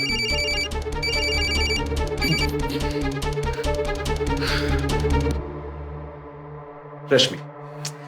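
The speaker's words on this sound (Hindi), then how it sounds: "रश्मि देखो, मैंने आई का फोन नहीं उठाया" A telephone rings steadily with an electronic tone for several seconds, then stops, followed by a brief louder burst.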